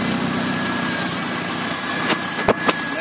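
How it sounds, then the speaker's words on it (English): A 1951 Farmall Cub tractor engine running steadily, a loud, even droning hum close by, broken near the end by a few sharp clicks or knocks. "See, it starts right up. Runs good, smooth, no smoke."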